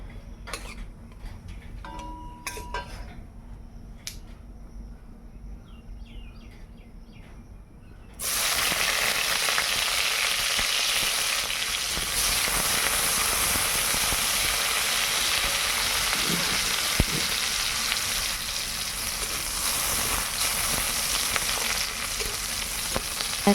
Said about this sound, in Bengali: তার মধ্যে দিয়ে দেব কয়েকটা জিরে আর পেঁয়াজ কুচি দিয়ে পেঁয়াজ কুচিটাকে ব্রাউন কালার হওয়া পর্যন্ত একটু ভাজতে হবে